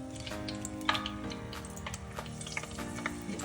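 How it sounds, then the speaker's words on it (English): Green chilies frying in a hot pan make a steady, close sizzle with bright crackles and pops throughout a few seconds, without any talk. "And then try to fry some green chilies."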